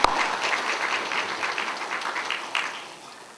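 A church congregation claps for a member who stands to be greeted, a dense round of applause that starts sharply, stays steady, then tapers off over a few seconds.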